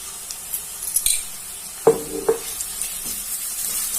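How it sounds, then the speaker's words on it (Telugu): Ginger garlic paste frying with onions in a pan for a mushroom fry, a soft steady sizzle broken by a couple of metallic spoon knocks and scrapes, near and without speech. "ఇప్పుడు అల్లం వెల్లుల్లి పేస్ట్ వేసుకుంటాను."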